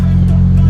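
A 2000 Toyota Celica engine idles steadily up close, a low, even rumble holding without change throughout.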